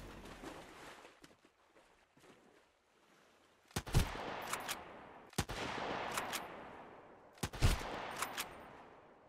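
Gunfire in the survival video game Sunkenland: a few sharp, loud shots ring out close by, spaced a second or two apart, each trailing a rumbling echo over quieter ambient noise and faint scattered clicks.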